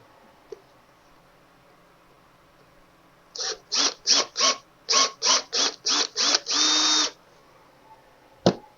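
A power drill whirs in a series of short bursts, about nine quick pulses ending with a longer run, drilling holes while fitting a Shelby Cobra replica's rear view mirror, close and fairly loud against quiet background.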